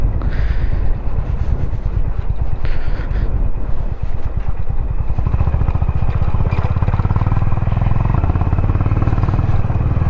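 A motorbike on a mountain ride in Spiti rolls slowly downhill, its engine running low and steady under heavy wind buffeting the microphone for the whole stretch.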